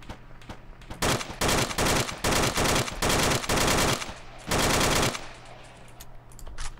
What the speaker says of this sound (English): I just shot a guy in the settlement.